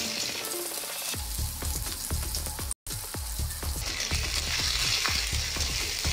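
Onions hiss and sizzle in a pan with ginger, black pepper, cloves, fennel and cumin, a steady loud frying noise broken by scraping stirs, heard close with no talk.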